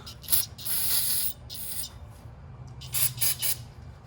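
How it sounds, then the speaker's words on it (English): Several short hissing bursts from an aerosol can of brake cleaner sprayed close by onto a napkin during a Hyundai Elantra front brake pad job, some quick and one longer, with brief quiet gaps between them. "instead of spraying it with brake clean, I like to just spray a napkin."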